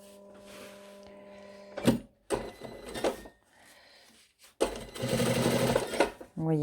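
Sewing machine stitching a zipped pocket, loud bursts of rapid mechanical needle chatter starting and stopping several times, up close, with a person talking in the gaps.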